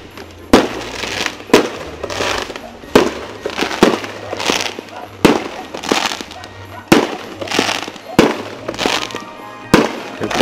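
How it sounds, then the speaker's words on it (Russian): New Year fireworks are set off on a neighbouring street. Sharp, loud bursts crack out about every second and a half, each trailing off into crackle and rumble, while a person's voice is heard faintly between the blasts. "Вон салют у нас."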